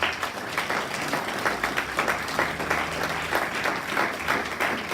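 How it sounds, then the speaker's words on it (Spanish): A church congregation claps for several seconds. The applause is dense and sustained with a loose rhythmic pulse, and faint background voices mix into the crowd noise. "Denle un aplauso al Señor"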